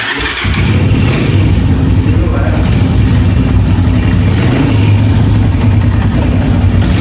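A motorcycle engine running close by, a loud steady mid-pitched drone that settles in after a brief start, with voices talking over it.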